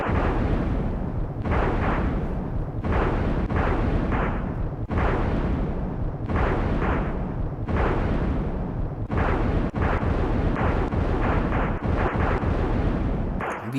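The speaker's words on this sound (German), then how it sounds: "Wie das im Leben ist, der Käfer explodiert." A beetle blows up in the Secret of Evermore video game, heard as a string of loud, booming explosion-like bursts repeating in quick rhythm with brief gaps between them.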